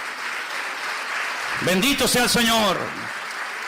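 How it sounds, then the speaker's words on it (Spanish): A Spanish-speaking church congregation applauds steadily and fairly loudly through a worship service, while a preacher's voice speaks over the clapping. "Dale un aplauso al Señor"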